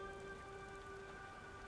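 Steady rain in the video game Beyond: Two Souls hisses as a constant wash of noise, faint and continuous, with a thin electronic hum beneath it.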